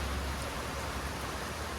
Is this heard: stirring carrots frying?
no